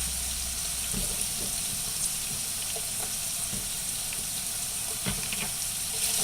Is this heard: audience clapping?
no